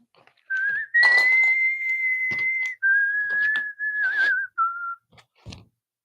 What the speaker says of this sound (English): The tin whistle, I think.